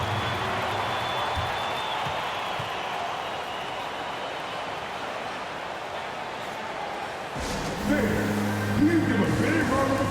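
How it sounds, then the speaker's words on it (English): A virtual arena crowd in the NBA 2K basketball game applauds the Timberwolves with a steady, broad roar of clapping and crowd noise. A voice comes in over the noise near the end. "Please give a big round of applause for your Timberwolves."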